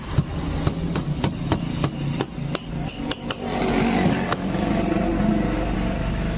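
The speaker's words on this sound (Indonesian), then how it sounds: "Pakai palu karet." A rubber mallet knocks on the engine parts of a Honda Beat Pop motorcycle being taken apart for lost compression, about ten sharp, evenly spaced taps, close by, followed by a stretch of broadband workshop noise.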